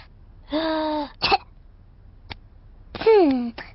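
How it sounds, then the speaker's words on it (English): A cartoon child coughs in two short voiced bursts, each tailing into a sighing, moaning tone, with a sharp catch of breath between them and a brief pause. "take a big breath in, then cough"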